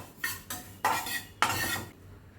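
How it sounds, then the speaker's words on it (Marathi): Sesame seeds are roasted and stirred in a pan, making three short, close scraping bursts in which the seeds rustle and the utensil scrapes against the pan, separated by brief pauses. "गॅस बंद करते आणि तीळ थोडीशी रोस्ट करून घेते."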